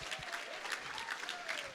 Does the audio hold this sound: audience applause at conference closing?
yes